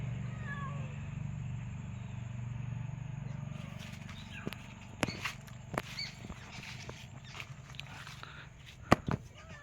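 A cat meows faintly outdoors in rural Khed, Ratnagiri, in the Konkan, over a low background hum, followed by scattered sharp clicks and rustling steps.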